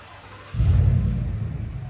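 A truck with a Flowmaster flow effects exhaust dump rumbles to life with a deep, low exhaust note that settles into a steady droning idle.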